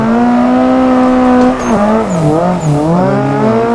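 Video game car pulling a handbrake drift: a loud, close engine drone holds steady, then the pitch wobbles and dips as the tires squeal through the slide, with no talk.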